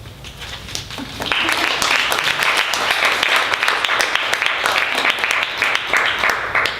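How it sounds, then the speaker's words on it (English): An audience at a poetry reading in a bookstore breaks into applause after a poem, the clapping swelling quickly from a quiet start and holding loud and dense, with some voices mixed in. "I just like it when you clap because it makes me feel like the poem's really over."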